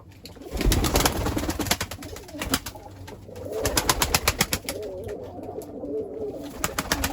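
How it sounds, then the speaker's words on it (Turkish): Pigeons cooing close by at a rooftop loft, repeated soft throaty coos in uneven bursts, with rustling and flutter around them and no talk. "İşte burada bir kuş geldi."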